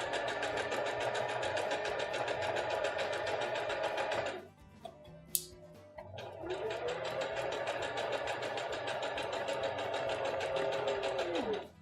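A sewing machine stitches elastic and snaps onto a cloth pocket diaper, running in a steady rapid buzz, pausing briefly midway with a small click, then resuming and slowing near the end.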